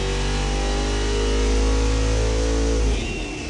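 A car engine strapped to a dyno is pulled hard toward 6,500 RPM, a loud steady rising roar with strong harmonic whine that cuts off abruptly near the end as the throttle closes.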